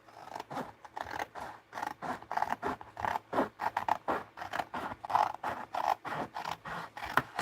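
Scissors cutting through paper or card for a junk journal putz house project, a long run of rhythmic snipping and crunching strokes, close and steady, with no talk.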